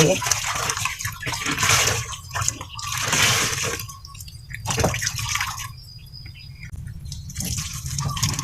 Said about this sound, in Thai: ล้างน้ำที่สองต่อค่ะ ยังเป็นฟองอยู่เลย